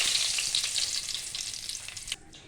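Curry leaves and mustard seeds crackle in hot oil for upma, making a bright, dense sizzle with small pops that cuts off sharply near the end, with no talking.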